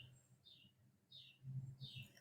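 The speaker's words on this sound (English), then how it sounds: "That is one loud bird." A loud bird outside repeats a sharp, high descending call three times at a steady pace, clear over a low background hum.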